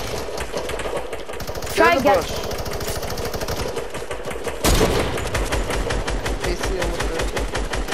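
A minigun fires in Fortnite in fast mechanical bursts, dense and loud, with a sharp blast near the middle, while players talk excitedly over the gunfire.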